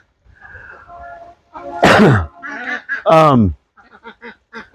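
Loud duck-like quacks and honking calls from a person calling ducks outdoors in the rain, a few drawn-out cries mixed with shorter ones, close by.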